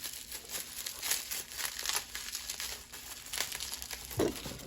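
Taped package holding an N scale model train being opened, with soft crinkling and rustling of packaging and a faint tearing sound, quiet and close.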